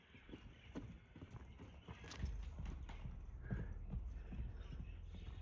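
A tall Polish-bred horse at a stud farm in Bishkek clip-clops on hard ground, a steady stream of hoof strikes at close range, with faint voices in the background.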